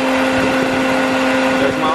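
BMW 330i E46 electric cooling fan running hard, a loud, steady roaring whoosh with a constant tonal hum, close by and unbroken for the whole stretch.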